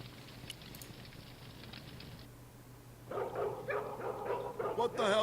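Dog barking in the adventure game Broken Sword 2: The Smoking Mirror, a run of yips and barks over a steady background hum, growing louder and busier in the second half.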